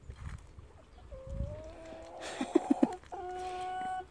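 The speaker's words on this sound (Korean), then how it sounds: "야, 큰 병아리." Farm chickens clucking and calling close by, with a few sharp short peeps and a sustained tonal call near the end, over quiet farmyard background.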